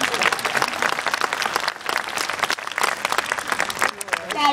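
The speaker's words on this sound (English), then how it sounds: "Give an applause for that." Audience applause at an aquarium animal show, steady and dense clapping from a crowd that holds for several seconds with a brief dip midway.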